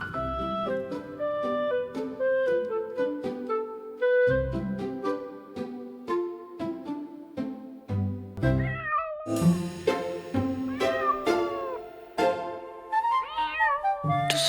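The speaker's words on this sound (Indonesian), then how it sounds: "Itu suara kucing." A cat meows repeatedly at close range, its calls rising and falling in pitch in an irregular rhythm with short gaps between them, heard alone without talk.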